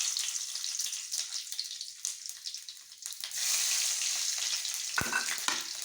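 Whole bay leaf and panch phoron crackle in hot mustard oil, a steady bright sizzle with a sharper burst near the end as more goes in, close and continuous with no talking.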